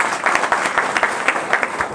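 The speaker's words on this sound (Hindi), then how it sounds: "एक बार जोरदार ताली बजा दीजिए" A crowd at a network marketing business training session claps loudly and steadily, producing a close, dense stretch of applause with sharp individual hand claps standing out.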